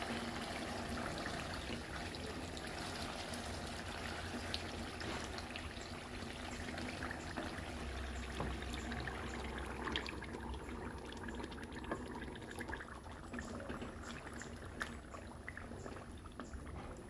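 Turkey stock mixed with tomato paste is poured into a stew of meats cooking over heat, making a continuous, even splash and trickle that stays at a steady level for the whole stretch, with no voices.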